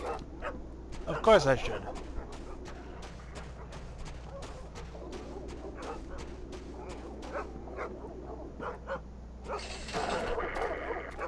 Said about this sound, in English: They're just regular dogs.